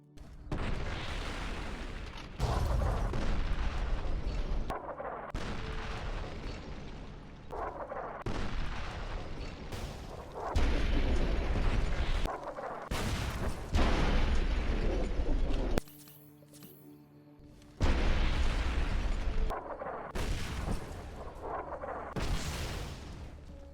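Heavy artillery barrage explosions in the video game Fallout: New Vegas, a series of loud booming blasts with sharp attacks and rumbling tails, broken by one brief quieter pause partway through.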